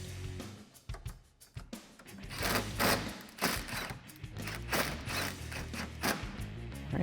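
A ratchet tightens a factory 8mm bolt on a 2010-2012 Mustang headlight, giving a run of close, uneven mechanical clicks and thuds with no talking.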